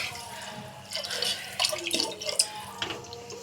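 Water pours into a pot of soaked black chickpeas in a home kitchen, a soft, faint, uneven stream with a few louder splashes toward the middle.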